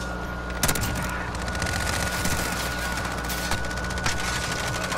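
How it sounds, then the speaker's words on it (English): Sustained gunfire in the video game Call of Duty: Modern Warfare, rapid automatic bursts, loud and dense, with a sharp nearby shot near the start and vehicle rumble beneath. "Stop shooting me"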